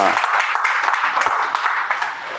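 A gathering at a furniture store event in Trichy breaks into dense, continuous clapping from a small crowd for a gold ring prize, steady throughout the short stretch.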